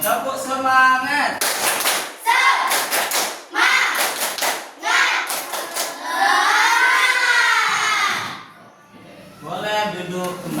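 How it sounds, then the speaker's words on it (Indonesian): Group performing the rhythmic 'tepuk semangat' spirit clap, several patterned clapping bursts interleaved with loud chanted voices, ending in talk. "kita akan lakukan kegiatan tepuk semangat"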